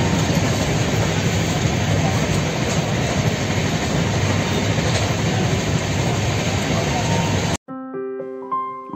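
Shantiniketan Express passenger train running on the Howrah to Bolpur line, a steady loud rumble of wheels and carriage noise filling the ride, cutting off abruptly near the end into a brief quiet tonal passage.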